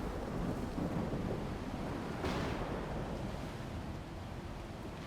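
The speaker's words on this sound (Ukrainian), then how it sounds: "я подивився ще раз, наскільки ж прикольна буря" Storm wind roars continuously in the video game STALKER 2, a broad, steady rushing gust with a low rumble underneath, loud and unbroken throughout.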